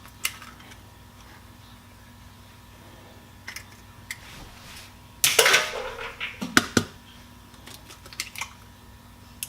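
Eggs cracked by hand for pasta dough, a couple of sharp close cracks and a wet crunch amid small clicks and handling noises in a quiet kitchen.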